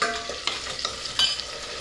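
Onion, garlic and curry leaves fry in hot oil for garlic kuzhambu, a steady close sizzle broken by a few sharp scrapes and clinks of stirring, with no voices.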